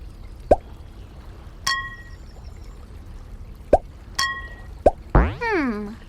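Video game rocks being dropped into jars in a children's sorting game: several sharp, separate plopping taps with short chimes, spaced irregularly over a few seconds and ending in a rising-falling sound effect.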